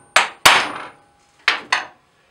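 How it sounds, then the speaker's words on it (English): Four sharp metallic taps of a small hammer striking a center punch on metal, in two close pairs separated by a short pause, near and crisp with quick ringing decay and no talk. "And I'm going to prick punch it."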